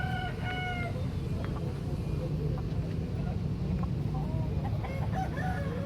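Bangkok fighting chickens at a market in Makassar cluck and crow repeatedly over a steady, dense background of market noise.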